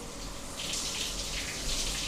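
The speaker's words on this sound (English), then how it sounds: "Nice old red rainfall shower." An old red rainfall shower in a cheap city-centre hotel room runs with a steady, close hiss of falling water that swells slightly partway through, with no voices.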